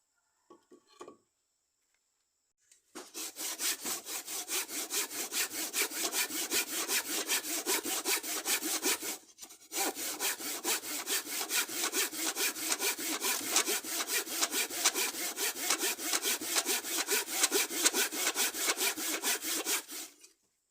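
A cheap hand saw cuts through wood for a workbench build, its rapid back-and-forth strokes close and steady, pausing briefly midway before resuming at the same even rhythm.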